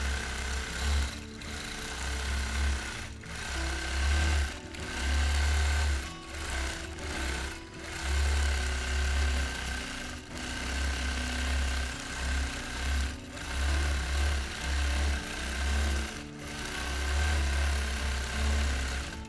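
A sewing machine doing free-motion quilting of a whimsical rose and leaf design whirs steadily up close, its motor running in long bursts separated by brief pauses as the stitching starts and stops.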